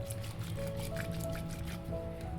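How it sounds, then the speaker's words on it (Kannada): Pakoda batter being mixed with water in a bowl, giving steady wet squishing and dripping sounds throughout, close and fairly soft, with a faint low hum underneath. "ಇವಾಗ ಸ್ವಲ್ಪ ನೀರನ್ನು ಹಾಕಿ ಚೆನ್ನಾಗಿ ಇದನ್ನು ಮಿಕ್ಸ್ ಮಾಡ್ಕೊಳ್ಳೋಣ"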